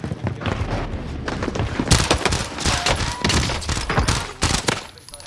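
Assault rifle fire in a shooter video game: rapid bursts of sharp shots with thumping impacts, loud and close, coming in clustered volleys with brief gaps over several seconds.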